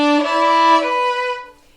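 A bowed string instrument plays a short phrase of a Bach fugue using separated bow strokes, giving a bright, resonant tone with a few distinct articulated notes that ring out clearly and alone before fading.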